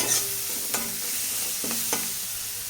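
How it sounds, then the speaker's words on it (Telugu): Spinach fries in a pan over a high flame while a spatula stirs it, with continuous sizzling and a few sharp scrapes and clatters against the pan, close and without talk. "పాలకూర వేసిన తర్వాత ఇలా పెద్ద మంట మీద ఫ్రై చేసుకోవాలి"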